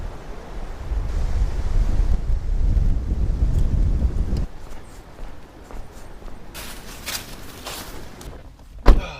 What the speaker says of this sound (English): 20-mile-an-hour winds.